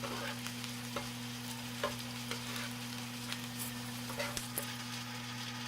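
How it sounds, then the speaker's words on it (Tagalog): Onions and garlic stirred while frying in a pan, a steady close sizzle with repeated scraping strokes of the utensil and a constant hum underneath, no talking. "So we're just going to stir, but you have to make sure that you're not going to burn them."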